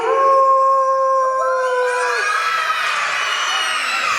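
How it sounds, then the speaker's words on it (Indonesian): A wolf howl plays from a recording, clear and loud, with long rising and falling tones that layer into a chorus of several voices and carry on for about four seconds. "serigala."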